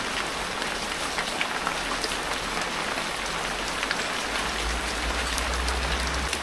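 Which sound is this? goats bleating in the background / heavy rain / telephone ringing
heavy rain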